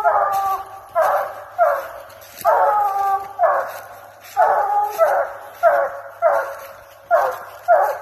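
Close, loud barking from two dogs in short bursts roughly every half second to second, with whiny, whimpering tones mixed into the barks.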